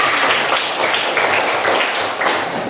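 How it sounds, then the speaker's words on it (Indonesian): A class of schoolchildren claps together during an Islamic religious education lesson, a dense, steady patter of hands filling the room at close range for the whole moment without a break. "Bagus, luar biasa, tepuk tangan semuanya."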